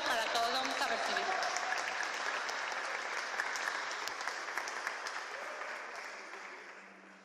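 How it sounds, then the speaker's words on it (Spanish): Audience applause for a son jarocho group with violin and vocals at a museum night event, a dense steady wash of clapping that slowly fades over several seconds, with some voices mixed in. "Entonces yo les pido un aplauso para todos, vamos a recibirlo."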